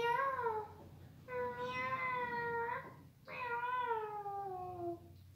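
Three drawn-out meows from a cat in a Spanish-language children's story, each rising and then falling, with short pauses between them, near and clear, and no talk over them.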